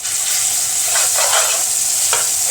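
Garlic frying in a spoonful or two of oil as it is stirred: a constant bright hiss with a few soft scraping strokes of the spoon, near and uninterrupted.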